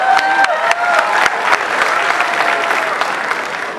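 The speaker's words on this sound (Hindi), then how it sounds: "इनके लिए तालियां बजाइए बहुत सारे" Warm, steady applause from a large, mostly female audience at the Taste of Pakistan festival in Bolingbrook, 2016, a dense close patter of many hands with a few sharper claps standing out, holding even throughout.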